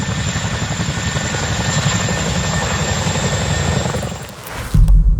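CH-47 Chinook heavy-lift helicopter in flight, a loud continuous rotor thrum and turbine whine that fades slightly near the end before a close low buffeting burst.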